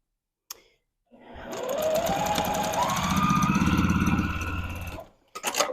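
A sewing machine runs in one steady burst of a few seconds, stitching quilt squares together with a fast, even mechanical whir and needle clatter, close up, briefly preceded and followed by small clicks.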